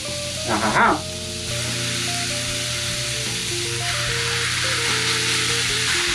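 Rice hitting hot oil in a pan for vegan kimchi fried rice, with a strong steady sizzle and frying hiss, a brief clatter as it goes in, then continuous crackling, loud and close throughout.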